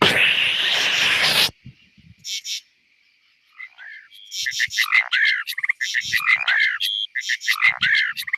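Nighttime nature sounds from Chesapeake Bay: a dense insect buzz like cicadas fills the opening, then breaks off into scattered, repeated chirping calls from night birds or frogs, clear and fairly close.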